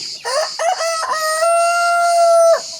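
Rooster crowing on a small farm during hot weather, with a few short clucks leading into one long, loud, close crow. No one speaks.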